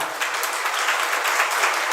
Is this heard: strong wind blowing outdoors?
no